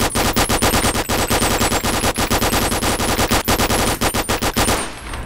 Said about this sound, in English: I was having too much fun firing a machine gun magazine out of a submachine gun.